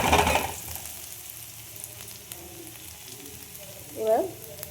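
Onions frying in oil until reddened for an egg tadka, a soft continuous sizzle near the pan with a brief stir or clatter at the start and another near the end.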